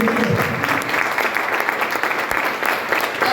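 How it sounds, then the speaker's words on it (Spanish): A church congregation applauding during a sermon, steady, full clapping from the gathered crowd that holds at an even level throughout, with no speech over it. "Dale un aplauso."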